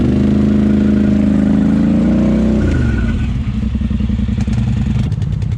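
A Polaris Sportsman ATV stuck in mud revs hard and close, its engine droning loudly before dropping into a lower, chugging clatter as the wheels churn, with no talking over it.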